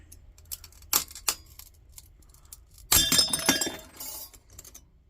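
A glass valve globe cracking while clamped in a vise: a couple of sharp ticks, then a brittle crackling, crunching burst of splintering glass that fades over a second or so, close and alone.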